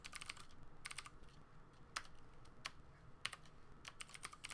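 Keys tapped on a computer keyboard, typing asterisks with Shift and 8, in quick irregular bursts of crisp clicks with short pauses, fairly quiet and close, no talking.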